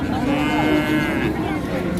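A calf moos loudly and close by in one drawn-out call at a cattle market, with murmuring voices and crowd noise around it.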